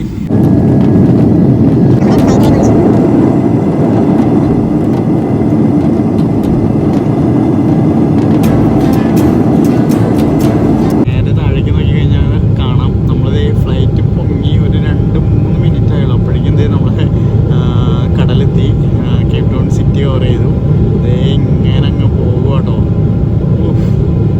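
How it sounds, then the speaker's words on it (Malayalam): A passenger jet taxis onto the runway for departure from Cape Town, its engines a steady loud rumble heard from inside the cabin, with a sharp change in tone partway through as speech carries on over it. "നമ്മുടെ ഫ്ലൈറ്റ് പയ്യെ എടുത്തു റൺവേയിലേക്ക് കയറിക്കൊണ്ടിരിക്കുവാണ്"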